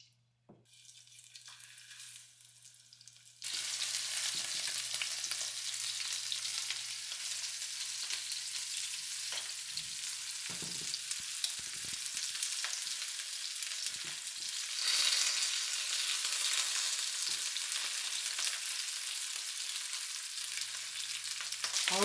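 Shrimp frying in a couple tablespoons of oil for a Chinese dish, a loud steady hiss and crackle starting abruptly after a quiet moment and continuing with occasional stirring clatter.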